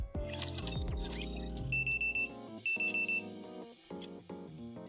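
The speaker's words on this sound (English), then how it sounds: "The alarm rings and I immediately get up to prepare to head out." An alarm rings in the Goddess of Victory: NIKKE game, a series of short repeated electronic beeps sounding over steady background music.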